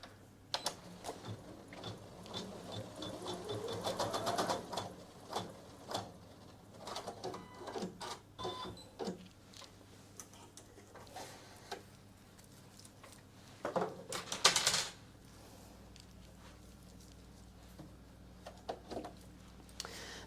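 A Janome Memory Craft 1000 embroidery machine recalibrating after its safety lock is released, making a long run of mechanical clicks, whirs and rattling ticks. The movements are irregular, quiet to moderate, close by, and there is no talking.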